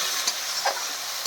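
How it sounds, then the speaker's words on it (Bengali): Spice paste frying in oil for a fish-head muri ghonto, a dense continuous sizzle with a couple of faint stirring scrapes, close and steady, no speech. "মশলাটা ভালো করে ভেজে নিই।"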